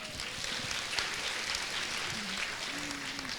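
Applause from the audience at a large citizens' roundtable meeting, a steady broadband wash of many people clapping, heard from within the room at moderate level.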